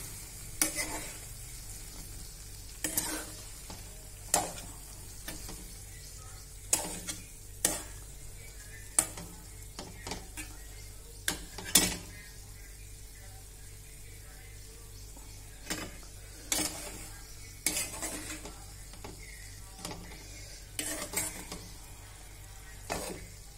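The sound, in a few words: stir-frying eggplant and potato in masala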